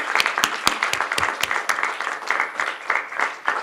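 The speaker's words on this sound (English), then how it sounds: "I think we should clap for that." Audience applause at a book launch event, a dense room of clapping hands with sharp individual claps standing out early, steady throughout and fairly close.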